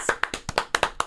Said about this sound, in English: Emily, let's just end this by giving a round of applause for Emily.